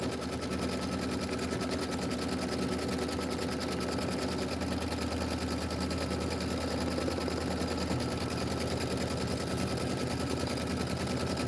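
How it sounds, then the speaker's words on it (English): A sewing machine stitches across fabric with a fast, even mechanical whir and rapid needle chatter, steady and close for the whole stretch without any talk. "I just wanted it where it was going to stitch across the fabric"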